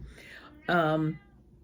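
A cat gives one clear, loud meow close by, a short tonal cry after a faint earlier mew, with soft talking nearby.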